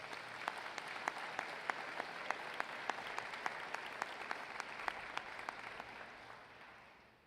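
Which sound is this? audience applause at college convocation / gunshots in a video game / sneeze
audience applause at college convocation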